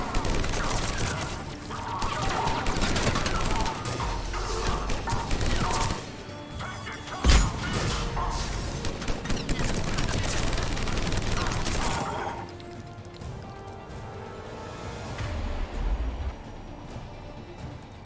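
Sustained firefight in Mass Effect Legendary Edition, dense overlapping gunfire and impacts rolling on for about twelve seconds with one sharp crack in the middle, then easing into quieter ambience with scattered distant shots.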